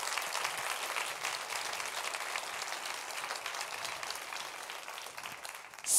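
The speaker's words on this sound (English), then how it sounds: "I think we should give Lucia and the team here one big, great applause" Steady applause from a conference audience at the opening of a UN Global Compact event, a dense wash of many hands clapping evenly throughout and cutting off at the very end.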